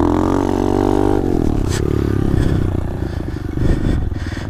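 An SSR 125 pit bike engine revs hard through a wheelie at altitude, its loud harmonic whine climbing then dropping into a rough, bogging drone with clattery mechanical noise, close and steady with no talking.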